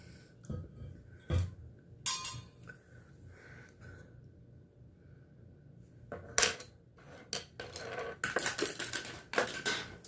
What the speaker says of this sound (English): Keep dropping colored pencils, dang it.